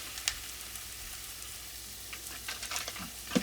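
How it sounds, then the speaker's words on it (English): Sweet sausage and beef brown in a pan with a faint, steady sizzle, punctuated by a few light crackles and pops, quiet and close, with no voices. "we're going to let that cook until all the meat is browned"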